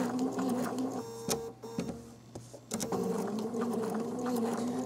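A sewing machine stitches around a quilt appliqué shape with a short stitch length, a steady close mechanical whir with a clicking rhythm that briefly slows and pauses mid-way before resuming.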